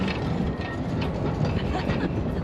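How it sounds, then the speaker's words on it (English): A horse-drawn tram running on rails, pulled by a Clydesdale at a seaside town, gives a steady rolling rumble with faint clickety-clack from the wheels, fairly close and continuous. "this place has a tram line which they pull a tram with a Clydesdale horse"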